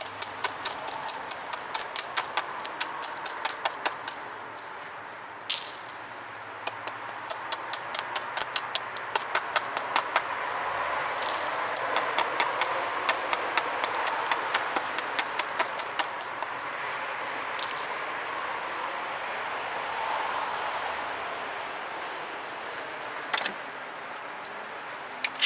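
Flint Ridge flint biface preform trimmed by flintknapping, a run of quick sharp clicks and taps of stone on stone, faint and close, in bursts with short pauses.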